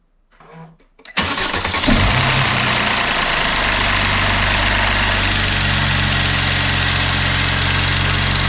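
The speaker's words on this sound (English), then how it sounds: "that tapping noise is totally normal. That's how direct injectors sound." A Mercedes C350 engine cranks and catches after a second of quiet, then settles into a steady, loud idle with the light rhythmic tapping of its direct injectors running throughout, heard close up in a workshop after an oil change.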